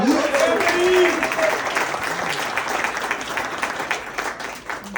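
Audience applause for band members at a live show at Caffe Lena, a dense burst of clapping, with someone speaking over it at first and the clapping easing off toward the end.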